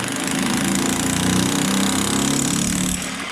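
A demolition hammer hammers steadily and loudly close by while removing floor tiles, a dense rapid pounding that holds level for a few seconds.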